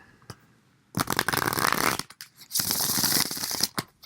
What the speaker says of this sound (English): you can skip this card shuffling finish